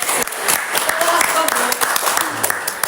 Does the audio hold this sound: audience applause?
yes